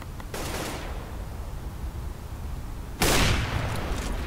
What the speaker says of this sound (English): Melky picking up a good frag there onto Bro as he peeks out Rock.